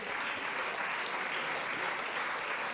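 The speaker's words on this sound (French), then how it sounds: "On peut les applaudir très fort pour ce combat de haut niveau." A crowd applauds after a high-level pro fight at a combat-sports event, a steady wash of many hands clapping, fairly distant and even, with no voices.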